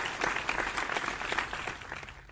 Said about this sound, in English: We get the applause again.